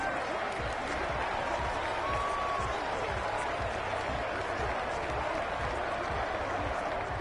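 Home-stadium crowd in a football video game, Colts against Cowboys in a Hall of Fame game, roars and claps in a constant loud wash while a commentator's voice talks over it.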